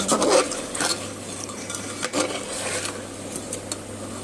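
Mutton with homemade ground spice blend being stirred and fried in a pot for biryani, a scraping, rasping spoon against metal with a few louder strokes early on, then steadier soft scraping close by.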